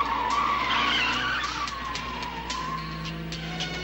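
Car tires screech in a long, loud skid during a chase in the 1994 Jet Li action film O Guarda Costas em Ação, the squeal wavering over a revving engine with no talk.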